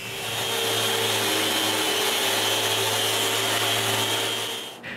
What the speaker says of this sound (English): Now I have to sand the saw marks inside the base.